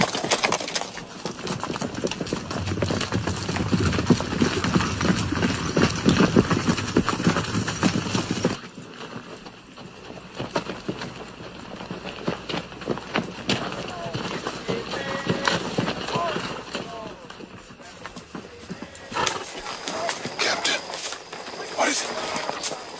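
Hooves clatter in quick galloping rhythm amid rough outdoor noise, with voices calling out over the pounding, which fades and returns partway through.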